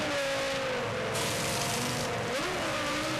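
A 2001 Formula One car sitting in the pit lane at the Brazilian Grand Prix, its engine held at high revs as crew work on it, a loud sustained whine that dips and climbs briefly near the end.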